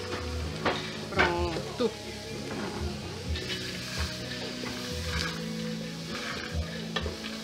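Beans poured into a hot pan with colorau, sizzling and frying loudly up close with stirring scrapes, while someone talks over it.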